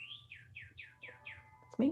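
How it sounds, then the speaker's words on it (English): An outdoor bird sings loudly, a quick series of about six descending whistled notes in a steady rhythm, and a voice begins talking just as the phrase ends. "I don't know if you can hear that bird, but it's really loud."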